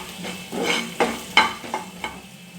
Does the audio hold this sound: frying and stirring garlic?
yes